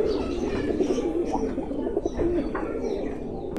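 Pigeons coo steadily in a highflying loft, a dense low murmur of overlapping calls from Shiyalkothi birds close by, with occasional wing flutters and faint chirps throughout.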